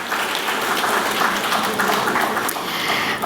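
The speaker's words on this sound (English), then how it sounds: "I would request every one of you to give him a round of applause." An award ceremony audience applauds steadily, a dense, continuous wash of clapping throughout.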